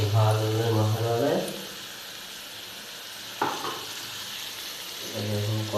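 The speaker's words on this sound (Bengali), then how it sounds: "এখন কষানো হবে একটু।" Chicken sizzling in a pan as it is stirred, a steady frying hiss with a scraping stir partway through, while a voice talks at the start and end.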